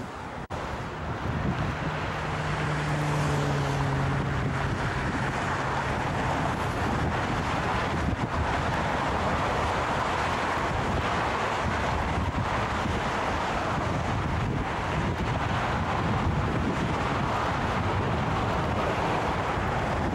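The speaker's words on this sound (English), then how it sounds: "Cold, windy, and loud due to traffic." Strong wind buffets the microphone out on the Golden Gate Bridge, a constant loud roar mixed with heavy passing traffic, including a brief low engine drone early on, with no talk.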